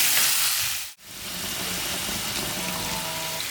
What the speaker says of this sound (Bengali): আলু, টমেটো সব ময় মশলা দিয়ে এখন ভালো করে কষিয়ে নিতে হবে।